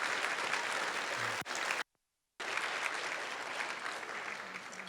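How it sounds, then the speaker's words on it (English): Sustained audience applause at a 2020 OKFMAC keynote for Meredith and the organizing team, dense steady clapping that breaks off sharply into a brief silence before resuming just as strongly. "give a round of applause for Meredith and the team"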